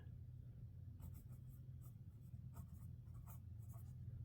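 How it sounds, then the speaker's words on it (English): A measurement being written down on paper with a pen, heard as quiet close scratchy strokes in short bursts over a steady low hum. "I'm going to write that down"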